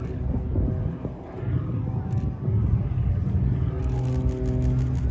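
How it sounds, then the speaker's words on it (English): An aerobatic aircraft snap-rolls while climbing at an air show, its engine a loud, continuous roar that rises and shifts in pitch over steady rumble, heard from a distance outdoors. "Rolling, snap rolling the aircraft all the way up."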